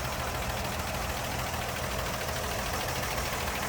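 A 1964 Ford F100 truck's 223 cubic inch inline-six engine idles steadily with a dense, even rumble and constant mechanical noise, no speech over it.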